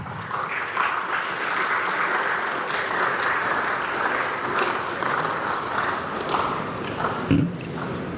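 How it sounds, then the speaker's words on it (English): Sustained audience applause at a student conference, a dense, even wash of many hands clapping for several seconds with little variation, a brief thump near the end. "Let's continue clapping."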